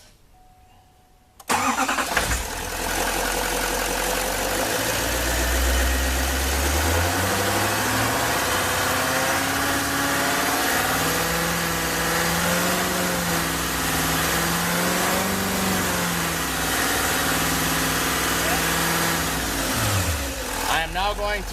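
A 2013 GMC truck engine cranks and fires, then is held at a steady elevated speed around 2500 RPM, a loud, even drone close by that rises slightly mid-run before dropping back near the end.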